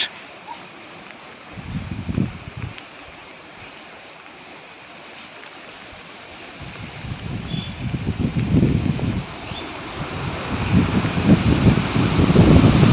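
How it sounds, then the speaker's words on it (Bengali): Strong gusty wind during Cyclone Remal sweeps across open ground near water and trees, a steady roar that swells in louder gusts toward the end, with rumbling buffets on the microphone. "বুঝতে পারছো কিরকম পরিমাণ জোর হাওয়া বইছে।"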